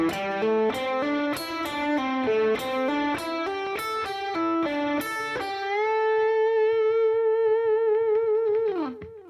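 A pentatonic shape 1 lick on electric guitar through an effects unit with light distortion: a quick run of plucked notes that ends on one long sustained note, then a drop.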